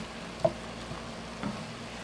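Stuffed bell pepper filling frying in a pan over medium-high heat, a low continuous sizzle with a few soft stirring knocks, faint and steady with no talking.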